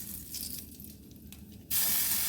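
Ginger paste hits hot oil already tempered with black cumin and cardamom. The quiet frying jumps into a sudden loud, hissing sizzle that holds steady to the end, with no talk.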